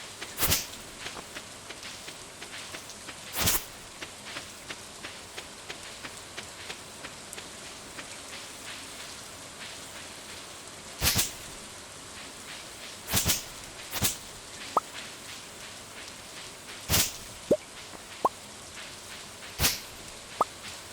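Steady rainfall in the Stardew Valley video game, a constant soft patter with occasional louder splashes and faint clicks throughout, no voices.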